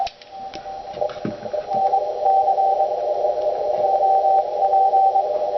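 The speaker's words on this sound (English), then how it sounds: "Hear all of that noise, that high frequency noise?" A steady, thin electronic tone drones from a radio speaker, with a constant hiss and faint ticking clicks layered over it.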